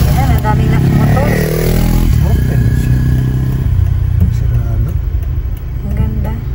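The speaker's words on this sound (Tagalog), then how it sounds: "Ayan, ang daming motor." Many motorcycles and other road traffic pass close by on a non-expressway road trip route, engines droning and revving loudly throughout, with people talking over the noise.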